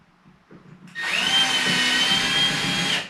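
After a second of quiet handling, a power driver spins up and runs at a steady whine for about two seconds, turning a drywall screw into a wall.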